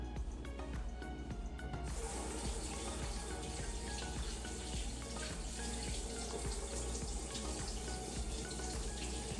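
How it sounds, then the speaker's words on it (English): Hands washed under a running kitchen tap, a steady faint splashing flow that continues evenly throughout, slightly brighter after the first couple of seconds. "I'll wash my hands, get it nice and clean"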